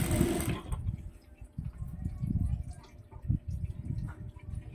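A sewing machine stitching curtain fabric, a close, fluttering low mechanical whir running in uneven bursts after a brief louder rush at the start.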